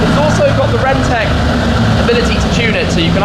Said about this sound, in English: you can press that button and the Akrapovic exhaust does an even louder burble